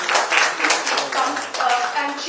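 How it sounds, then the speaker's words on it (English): Clapping from the audience at a Goa Angel Network startup event, fairly close and uneven, mixed with voices talking over it. "A round of applause,"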